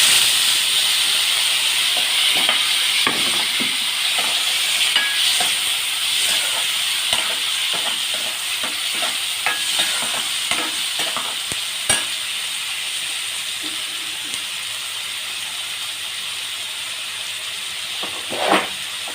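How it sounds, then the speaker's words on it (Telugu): Chopped onion and tomatoes hit hot oil and fry in a pan, giving a loud, steady sizzle with a hissing, steamy wash and scattered crackles and stirring clicks throughout. "నేను ఒకటి ఉల్లిపాయ రెండేమో టమాటాలు కోసుకున్నానండి వేసేస్తున్నాను"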